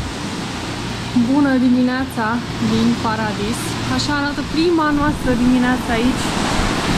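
Ocean waves on a beach on Isla Mujeres, Mexico, in the morning, a steady broad roar of surf running throughout beneath someone speaking close by.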